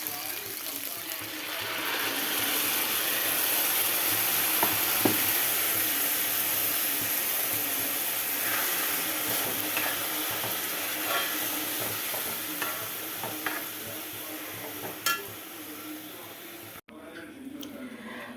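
Okra curry simmering in a pan with ground coconut and mustard paste, giving a steady close sizzle with scattered scraping clicks of stirring, continuing without speech before a brief cut near the end.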